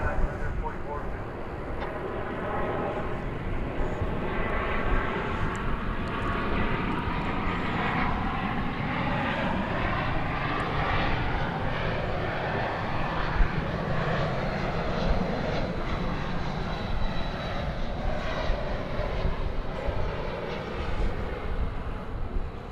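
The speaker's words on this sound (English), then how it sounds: "Our parade of 20th century aircraft continues." An old 20th-century aircraft passes at DFW Airport, a steady, loud engine roar with a droning, whirring texture that holds for over twenty seconds, with people talking over it.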